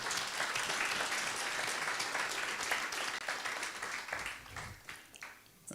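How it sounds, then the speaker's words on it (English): A medical association audience breaks into brisk, close applause for the first two African women to qualify as urologists, loud at first and then tapering off unevenly toward the end. "I think we can give them a big clap."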